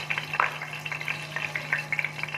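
Cloves and fennel seeds fry in hot oil in a pan, a steady close crackling sizzle with scattered sharp pops and light stirring scrapes, a low hum beneath and no talking.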